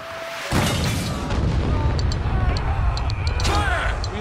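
In a military video game, a mortar fires with a heavy, booming thud, and the blast spreads into a sustained roar of battlefield rumble and distant crackles.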